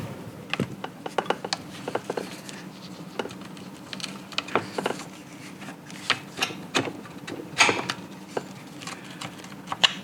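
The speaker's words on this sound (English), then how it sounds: "I'm going to see if I can turn that shaft to get us lined up properly." Irregular metallic clicks and ratcheting taps as a shaft is turned inside a disassembled ACE transmission, close and fairly faint, with small clusters of sharp ticks spread through the stretch.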